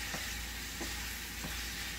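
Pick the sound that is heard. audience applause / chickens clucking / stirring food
stirring food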